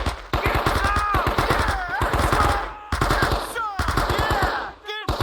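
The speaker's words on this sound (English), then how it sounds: "Come on, put out rounds. Open fire." Machine gun fire in the Vietnam War game Men of Valor during the Da Nang mission, loud rapid bursts with brief pauses, mixed with shouting voices and battle noise.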